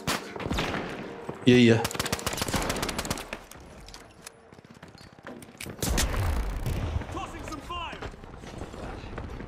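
Rapid bursts of gunfire in the video game The Finals, dense crackling volleys with brief pauses and a heavy impact, mixed with game effects while someone talks over it.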